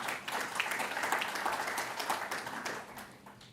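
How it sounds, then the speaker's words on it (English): A conference audience claps in a sustained round of applause, a fairly faint, diffuse patter that holds steady and then thins toward the end. "Please a round of applause for this community."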